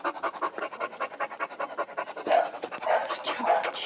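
Iron, a shelter dog, pants in quick, steady rhythmic breaths close by, the panting growing slightly louder toward the end, with no talk over it.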